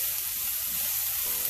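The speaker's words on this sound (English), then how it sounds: "Here you hear that nice sizzle, maybe just a little bit more." Mushrooms sizzle in a frying pan, a steady close hiss of frying that runs unbroken through the whole short stretch with no talking.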